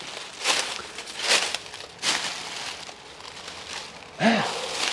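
Footsteps crunching through grass and dry leaves in Marseille, a few separate crackly steps spaced irregularly, moderately close, with a faint voice briefly heard near the end.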